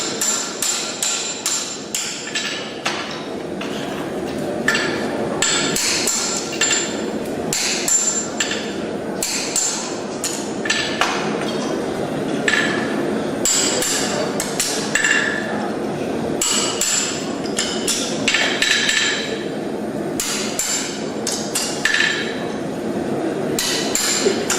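Steady, ringing hammer blows strike a hot horseshoe on an anvil to open the fullering, landing loud and close in an irregular rhythm through the whole stretch with no talk.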